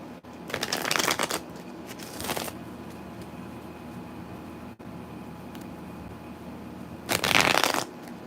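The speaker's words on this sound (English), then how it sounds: "Let's shuffle a little." Tarot cards are shuffled in three brisk riffling bursts, close and fairly loud, separated by quiet stretches of room hiss during a live reading.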